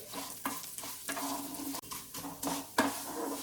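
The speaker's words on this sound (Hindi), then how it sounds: "घी अच्छे से मेल्ट होने के बाद उसमें वर्मिसाली को फ्राई करेंगे" Vermicelli fries in melted ghee over a medium flame for kheer, giving a steady close sizzle broken by regular scrapes and knocks from the stirring spoon, with no talking.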